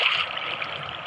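Water poured out of a bucket in Minecraft, a steady trickling, splashing pour that holds close and fairly constant for about a second, with no talk over it.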